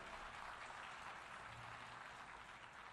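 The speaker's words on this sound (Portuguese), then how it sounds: "Vocês estão aplaudindo agora" Applause from an audience after a speech on peace in the region, a steady, even wash of clapping filling the whole stretch at moderate distance, with no voices standing out.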